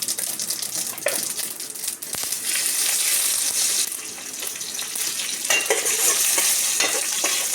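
Mustard and sesame seeds crackle and sizzle in hot oil with a steady hiss and scattered pops, close up, with occasional stirring scrapes.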